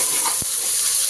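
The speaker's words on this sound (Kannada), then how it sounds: "ಇವಾಗ ಇದು ಟೊಮ್ಯಾಟೊ ಎಲ್ಲ ಸಾಫ್ಟ್ ಆಗೋವರೆಗೂ ಚೆನ್ನಾಗಿ ಫ್ರೈ ಮಾಡಬೇಕು" Chopped tomatoes frying in a pan for palak pulav: a steady close hiss of sizzling with one soft low stir or thump, brief and without voices.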